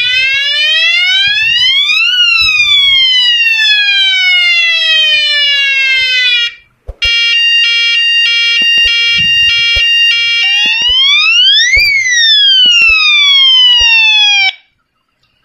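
A bicycle siren horn runs through several electronic siren patterns: a rising and falling wail, a brief cutout, a rapid warbling yelp, then more sweeping wails, loud and continuous with no talk.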